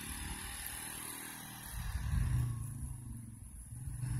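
Engine of a Polaris off-road vehicle driving, a steady low rumble that swells as it accelerates and then eases, close by with no one talking.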